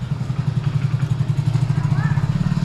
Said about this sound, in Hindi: विनीत चलाएगा मेरी, मैं चलाऊंगा विनीत की, और चलते हैं अब इसका टेस्ट राइड लेते हैं।